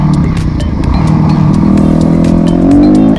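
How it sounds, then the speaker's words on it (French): A Yamaha YZF 450 dirt bike accelerates close by, its loud engine note climbing steadily in pitch over a few seconds with a clattering edge and no talk. "J'accélère."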